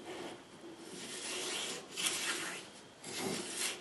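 A Record 43 plough plane takes a fine, barely-there wood shaving in soft swishing passes, quiet and close, with no voices.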